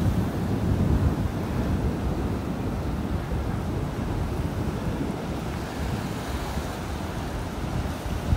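Steady wind blows on a beach in North Naples, Florida, roaring and buffeting the microphone alongside a broad wash of surf for the full length, loud and continuous with no voices.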